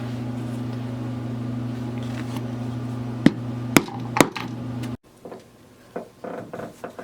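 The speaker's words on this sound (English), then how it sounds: "Hammer that hole in." A hammer strikes a hole punch into leather for a messenger bag, two or three sharp, close knocks over a steady electrical hum, then the hum cuts out and faint handling noises follow.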